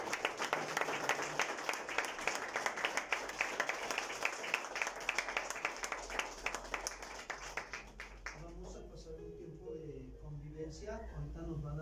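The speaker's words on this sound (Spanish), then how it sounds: "Denle un fuerte aplauso." A church congregation at a Sunday service breaks into dense, sustained applause that fills most of the stretch, then fades out as a voice takes over toward the end.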